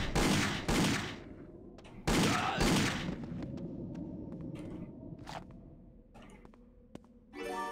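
Two bursts of rapid gunfire in Indiana Jones and the Infernal Machine, loud and close, each about half a second long, followed by a quieter scattered stretch of clicks and faint game sounds.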